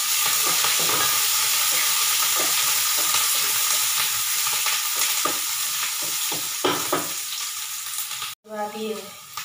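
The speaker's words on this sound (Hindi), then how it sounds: "इसमें ये हरी मिर्च है, खड़ा लहसुन की कली है छिला हुआ, और अदरक है और प्याज है कटी हुई सब इसमें।" Green chillies, whole peeled garlic cloves, ginger and chopped onion frying in a pan: a loud, dense, steady sizzle close up, with occasional stirring scrapes, cutting off abruptly near the end.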